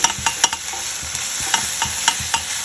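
Tomatoes and onions sauté in a pan with a soft sizzle, punctuated by irregular scraping and clinking stirs of a spoon, close and without talk.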